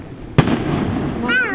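A single firework bursts with a sharp, loud crack followed by a decaying rumble outdoors, with a voice heard faintly near the end.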